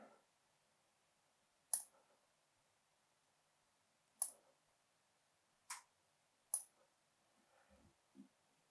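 Four sharp, isolated clicks of curved scissors trimming a fly-tying streamer, spaced a couple of seconds apart, close and crisp in an otherwise quiet room.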